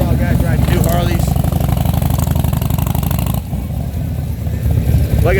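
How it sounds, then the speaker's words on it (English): Several new Harley-Davidson motorcycles roll in together on a demo ride at Daytona Bike Week, a loud continuous engine rumble that dips briefly and builds again, with a crowd talking throughout. "And this is the Harley-Davidson demo ride coming in here. These are all guys riding new Harleys."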